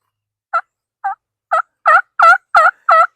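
A series of seven clucking, yelping calls from a handmade turkey call mimicking a hen turkey, evenly spaced and growing louder, close and clear with no talking.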